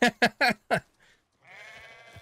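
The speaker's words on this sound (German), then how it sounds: "Schafe sind nicht begeistert. Sie wurden in ihrem Schlaf gestört." Four short, sharp sheep bleats in quick succession in the video game Hogwarts Legacy, followed by a quieter, drawn-out bleat, with no voices.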